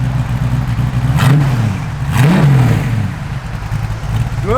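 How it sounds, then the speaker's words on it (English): A 1965 Ford Mustang's engine idles with a steady low exhaust rumble, rising in two short revs that swell and fall away before settling back to idle. "Good sounding exhaust."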